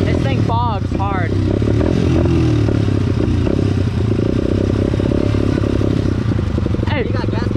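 A dirt bike that runs badly, with fuel leaking, bogs and stumbles as it revs; a loud, steady engine drone fills the whole stretch while people talk over it.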